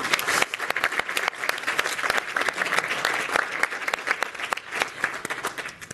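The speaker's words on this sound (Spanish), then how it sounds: "un fuerte aplauso para ellos" A crowd at a Spain–Japan forum session applauds steadily, many hands clapping in a dense, continuous patter that fills the room.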